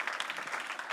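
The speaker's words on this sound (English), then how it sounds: "That applause was also for Mark, of course." An audience applauds at an offshore wind energy workshop with a dense, even patter of clapping, fairly faint and distant.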